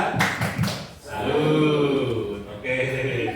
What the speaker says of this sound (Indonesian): kita berikan tepuk salut kepada Bu Esti